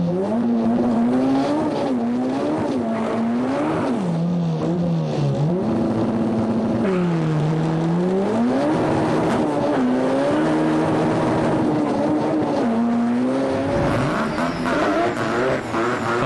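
Onboard sound from a Mazda rotary race car, its engine wailing continuously and loudly close-up as revs rise and fall through gear changes, with a brief tyre squeal, no talk.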